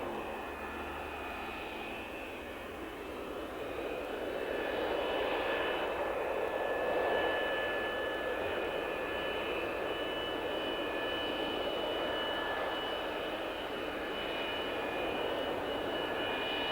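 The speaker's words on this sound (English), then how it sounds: "the specially prepared F-15, which to save weight is not even painted except for the Streak Eagle badge, is rolled out onto the snow-covered runway" An unpainted McDonnell Douglas F-15 Streak Eagle jet sits on a snow-covered runway, its engines giving off a steady, moderately distant whine and roar that swells slightly and then holds constant.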